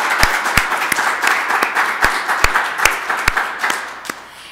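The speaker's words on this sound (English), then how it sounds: "I know someone should clap, right?" Scattered audience clapping at a press conference, a modest patter of individual claps with distinct sharp hits, fairly close and tapering off toward the end.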